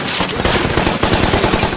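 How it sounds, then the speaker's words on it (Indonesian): Loud, rapid bursts of machine-gun fire serve as a WWII documentary sound effect, a close and sustained rattling volley of shots. "tiba-tiba mendengar tembakan berbunyi keras dari salah satu marinir yang sedang berjaga"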